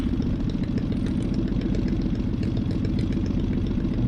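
A Minimax 1100r light aircraft engine runs up at throttle during a magneto check, giving a steady, loud, continuous drone with a rough low rumble that holds evenly throughout with no talk.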